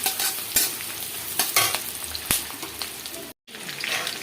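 Fenugreek seeds and spices fry in a pan for egg fried rice, a close crackling sizzle broken by sharp stirring scrapes, with a brief silent gap before the frying resumes.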